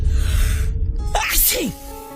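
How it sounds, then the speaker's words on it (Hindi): A single loud, close sneeze bursts out sharply over a low rumbling background in a dusty room, part of a spoken horror story. "कि उसे बड़ी जोर की छींक आई,"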